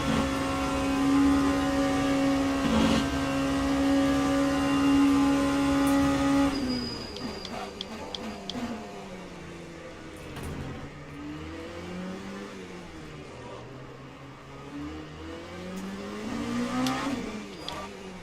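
Race cars and hypercars in Le Mans Ultimate at Spa: a steady high engine drone holds, then drops away into varied rising and falling revs as several cars sweep past in a multiclass field.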